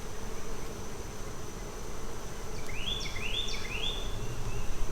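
Soft, continuous buzzing of honeybees at the hive fills the air, with a few brief chirping calls rising over it midway; steady and moderately faint.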